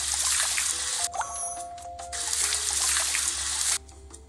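Water pours and trickles steadily into a cooking pot for noodles, a continuous splashing stream that briefly thins to a dribble midway before returning at full flow, close and fairly loud with no talking.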